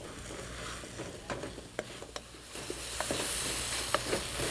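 Apples sautéing with spices in a hot pan for Indian curry, a steady sizzle with occasional sharp ticks and stirring scrapes close by.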